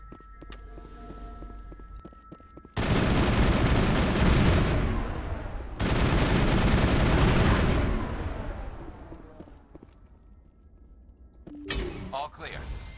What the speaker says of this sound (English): I'm trying to shoot things